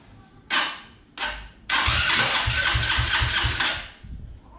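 A Honda Titan 2010 motorcycle with a 190cc kit, CB300 TBI and ethanol fuel is cranked twice in short bursts, then catches and runs loudly with an uneven, pulsing idle before dropping off.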